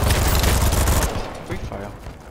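Chaotic gunfire and explosions in the video game BattleBit Remastered, a loud wall of overlapping shots and blasts that cuts off abruptly and leaves scattered, fainter firing and rumble behind.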